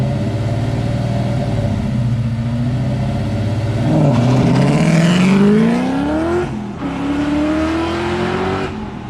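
A Coyote-swapped, PBH-built Ford Mustang notchback launches from about 2,000 RPM at a drag test: a loud, close engine holds a steady rev, then pulls into rising acceleration through a gear change and keeps climbing.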